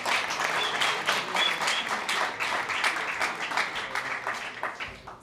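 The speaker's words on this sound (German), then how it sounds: "nochmal großen Applaus für Antonia" A studio audience at a German quiz show applauds the female champion with steady, dense clapping that fills the whole stretch before tapering slightly at the end.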